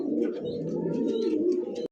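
Lahori pigeons coo close by in a dense, continuous low warble, with a few higher flutters and chirps above it, stopping abruptly at the end.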